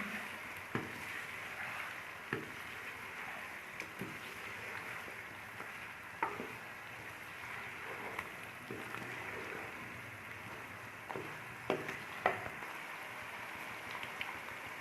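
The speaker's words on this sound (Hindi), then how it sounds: "इसको साथ ही डाल के इसकी भुनाई करते हैं अच्छी तरह से।" About half a kilo of chicken sizzles steadily with onions in a pan for kachnar chicken, with occasional soft knocks and scrapes from stirring at close range.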